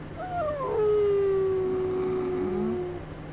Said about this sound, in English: Mournful howl indeed, puppy.